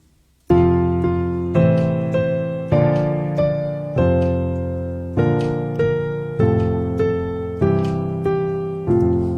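Piano plays a simple melody over a steady left-hand accompaniment, notes struck in an even rhythm with sustained decays, clear and close.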